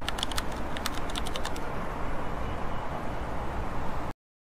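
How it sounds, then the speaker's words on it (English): A typing sound effect plays as rapid, close keyboard clatter over a steady noisy bed, with clusters of crisp key clicks early on before cutting off abruptly. "accompany this with a typing sound effect trimmed accordingly"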